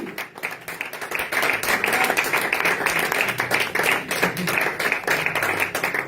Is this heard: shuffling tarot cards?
no